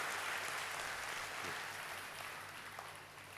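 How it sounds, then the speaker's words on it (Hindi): A church congregation claps together in a broad, steady wash of applause that stays fairly even and slowly eases off, heard from some distance with no talk. "तो जोरदार ताली बजाकर हम प्रभु यीशु का धन्यवाद करेंगे।"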